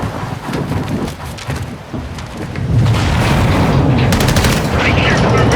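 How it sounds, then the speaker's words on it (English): Rapid gunfire and booming blasts in the Modern Warfare II campaign, dense bursts building louder midway over rumbling noise, with game voices mixed in. "Let's have ourselves a gunfight!"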